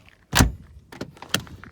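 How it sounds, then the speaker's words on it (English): A single solid thunk as the door of a 1971 Volvo 164 shuts, close and loud, followed by a few fainter clicks and small knocks from the latch and cabin. "Nice closing door again."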